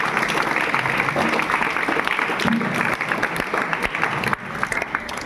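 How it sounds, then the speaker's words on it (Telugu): Students at a boys' hostel in Kurnool clapping hard together for a vocational principal, a dense, loud crowd applause that keeps up throughout with a few sharper claps and faint voices underneath. "సార్కి అందరికి ఒక్కసారి గట్టిగా చప్పట్లు కొడతారా?"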